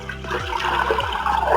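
Water is poured from a vessel into a large bowl holding four glasses of soaked rice for chicken dum biryani, a close, gurgling, splashing stream with no talk.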